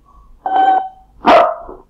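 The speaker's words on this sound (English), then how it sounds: "Oh, a new dog." Two loud, close barks from a dog, spaced about a second apart, with quiet in between and no talk.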